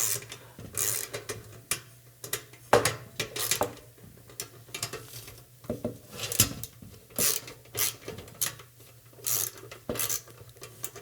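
A part is tightened down during chassis assembly, giving repeated ratcheting clicks and metallic turning noises in uneven bursts, close and moderately loud, with no talking.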